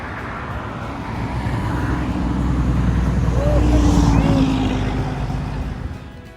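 Steady roar of road traffic from a main highway just beyond a brick wall in downtown Fort Payne, Alabama, a continuous wash of passing cars that swells slightly toward the middle.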